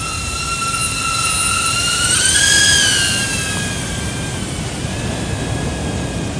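Camera drone flying over the coast near Lottin Point, a high whining motor tone that climbs and swells as it passes close, then eases off over a bed of wind and surf noise.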